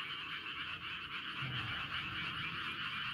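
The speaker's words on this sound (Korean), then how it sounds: "밤에 개구리 소리가 아주 시끄럽습니다." Frogs croak in chorus at night across an organic rice paddy, a dense, continuous, fairly faint wall of calls with no talking.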